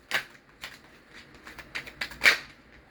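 Cards are drawn from a tarot deck, giving a handful of soft, crisp flicks and taps spaced irregularly over a few seconds, close and fairly quiet, with no voices.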